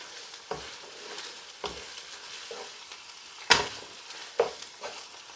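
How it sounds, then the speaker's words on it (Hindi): Garlic ginger paste fries softly in a pan while a spoon scrapes and stirs it in several separate strokes, each one a distinct clatter over a faint, steady sizzle. "अच्छी तरीके से मिक्स कर लूँगा और 2 से 3 मिनट इसको मैं भूनूँगा ताकि गार्लिक जिंजर पेस्ट की जो स्मेल है वो ख़त्म हो जाए"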